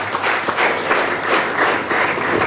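Applause from a conference audience at the Meru University of Science and Technology international conference: a short burst of many hands clapping together, steady and fairly loud throughout.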